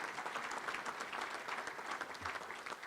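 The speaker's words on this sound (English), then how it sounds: "Let's give one more round of applause for all these folks" Fairly faint, steady applause from a luncheon audience at the Little Rock Touchdown Club, an even rattle of many hands clapping with no voices over it.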